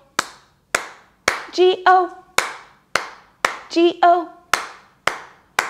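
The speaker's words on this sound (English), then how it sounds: "now we're going to add three claps for the B, I, N" Bursts of hand claps mark the beats of the Bingo children's song, single sharp claps coming regularly, with a sung melody in between.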